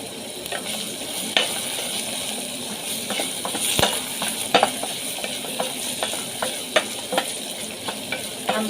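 Beef cubes sizzle steadily in a pot while being stirred for Kenyan githeri, a constant hiss broken by scattered clicks and scrapes of the spoon, close and moderately loud with no talking.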